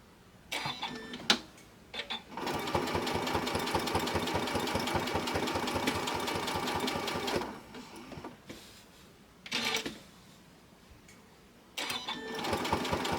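A sewing machine stitches a stained glass quilt wall hanging in long whirring runs with rapid rhythmic needle clatter, stopping briefly between runs.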